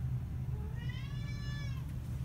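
A cat meows once with a long, rising-and-falling harmonic cry, fairly close, over a steady low hum in a home kitchen.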